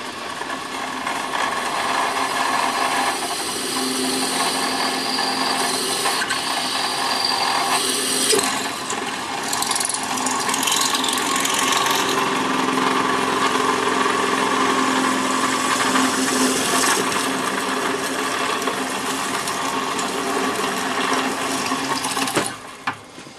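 A drill bores rear trunnion holes through sheet metal for an AK-47 rifle build, making a steady loud grinding whir that runs nearly continuously for over twenty seconds before stopping abruptly.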